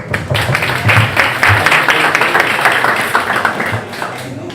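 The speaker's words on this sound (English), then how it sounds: "Give Mark a round of applause, everyone." A debate audience in a room claps in a full, dense round of applause that holds steady and loud before easing slightly at the end.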